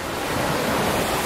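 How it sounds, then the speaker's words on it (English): Pacific Ocean waves roll onto a Hawaiian beach in a broad, steady roar of surf and wind, loud and close, with no voices. "Waves are coming in."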